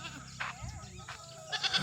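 A goat bleats a few times close by, short wavering calls that come in bursts with brief pauses, heard during goat shopping among other livestock.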